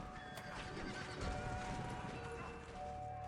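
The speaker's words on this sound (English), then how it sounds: "there's, like, a horse neighing in the background" In the video game We Were Here, a horse whinnies faintly under background music and ambience, with hooves clopping along, quiet and somewhat distant.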